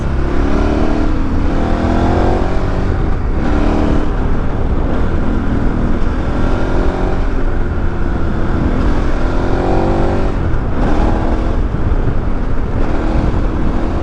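A KTM 1190 Adventure motorcycle ridden hard on twisty, bumpy Bulgarian roads, its engine loud and continuous with rising and falling revs under heavy wind rush throughout.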